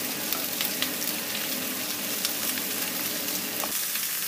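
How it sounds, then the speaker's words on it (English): Okra (bhindi) pieces fry in hot oil for aloo bhindi, giving a loud, steady, crackling sizzle with scattered sharp pops throughout and no voices. "So I'm going to add my bhindi, okra in it."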